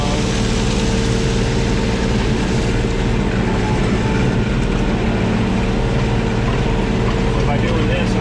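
Tractor engine droning loud and steady while it pulls a land grader along a driveway, a continuous close rumble with no breaks.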